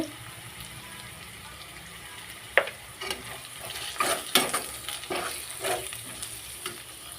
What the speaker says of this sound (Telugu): పసుపు అల్లము రెండు కలిపి ఇక ఇలా కలుపుకోవాలి